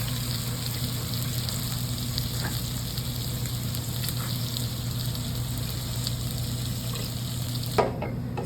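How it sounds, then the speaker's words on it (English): Stock is poured into sautéed vegetables and roux for gumbo and stirred, giving a steady sizzling, bubbling wash with soft scraping and a sharper clatter near the end; no one speaks. "Next, we are going to add in our stock to our vegetables and roux."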